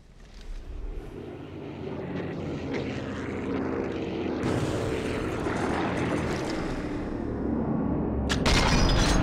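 A propeller warplane roars overhead in Sniper Elite 4, its engine drone swelling steadily louder across the span and peaking near the end, with no voices over it.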